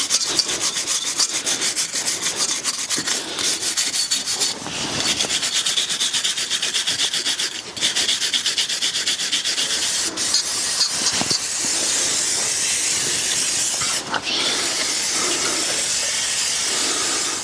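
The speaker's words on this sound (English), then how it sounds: "Now we'll just give the hub and all behind here a good clean up before we install the new" The brake hub of a BMW F20 is scrubbed clean by hand before a new disc goes on, giving steady, close, loud abrasive rubbing strokes with brief pauses and no talking.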